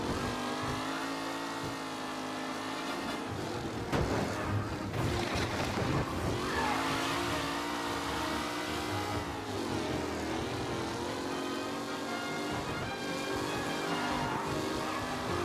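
Race cars in the Mafia video game drone steadily through the whole stretch, a dense continuous engine roar with layered harmonic whine, loud and sustained without pauses.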